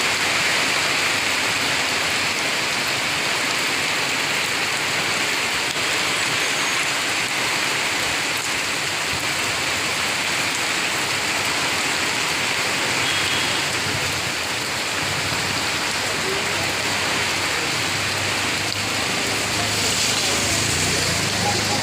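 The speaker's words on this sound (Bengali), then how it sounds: "বৃষ্টি পড়ছে" Constant, dense patter of rain falling on surfaces, a steady wash of noise that stays even throughout.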